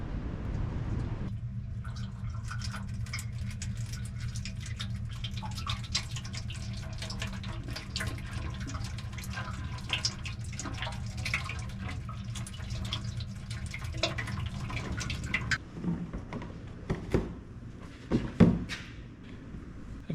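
Rotella T4 engine oil poured into the engine of a 75-year-old JI Case LA tractor, a steady trickling gurgle for most of the pour, then tapering off to a few drips and knocks.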